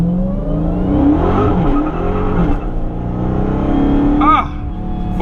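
2020 Dodge Charger Hellcat Widebody, lowered, launching hard with its engine roaring and tires breaking loose, a loud sustained rising and falling revving with a brief squeal near the end, heard close with a voice talking over it.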